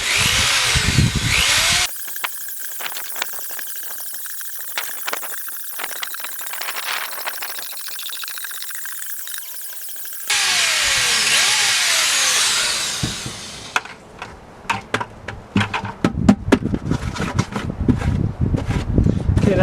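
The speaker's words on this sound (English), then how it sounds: "So I'm going to drill a bunch of holes in this." A power drill bores a series of holes through a plastic compost bucket for a worm composting setup, with loud motor whine, bursts of grinding as the bit cuts through, and rapid repeated spin-ups toward the end.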